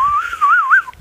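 A person whistles a short wavering tune, loud and close, alone for about a second.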